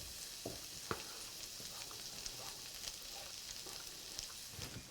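Mushrooms and shallots fry in a pan, giving a faint, steady sizzle broken by a few soft clicks and stirring knocks, with no talking.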